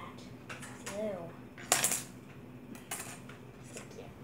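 A metal knife clinks and scrapes against a cup while stirring a borax solution, with a few sharp taps and light rattles against faint background noise.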